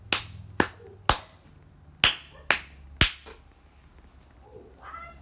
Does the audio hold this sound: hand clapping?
yes